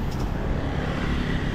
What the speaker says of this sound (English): this road here is incredibly busy when it comes to traffic